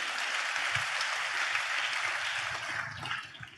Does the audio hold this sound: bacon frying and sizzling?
no